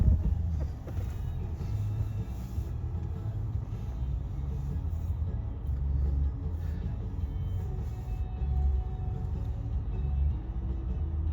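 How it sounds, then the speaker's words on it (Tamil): Cars move through Singapore street traffic during Diwali, a steady low rumble of engines and tyres passing at moderate distance with no clear talk. "இல்லை, அந்த சைடு கார் மூவ் ஆகுது."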